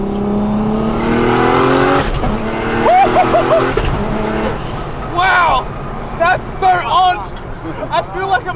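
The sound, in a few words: 800hp Nissan R34 GTR race car accelerating on street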